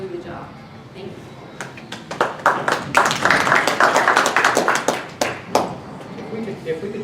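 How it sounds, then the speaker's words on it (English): A small audience at a candidate forum for County Court at Law #2 breaks into scattered, uneven clapping that swells for a few seconds and then thins out, with a voice talking over it. "If we could just hold the applause for the rest of the meeting"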